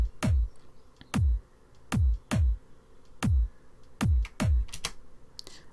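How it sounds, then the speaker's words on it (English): A layered kick drum sample from a remix playing alone, eight punchy hits with sharp attacks and deep, booming decays in a loose, syncopated pattern, close and clear. "let's have a listen to the kick"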